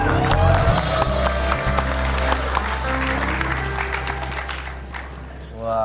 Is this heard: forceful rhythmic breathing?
no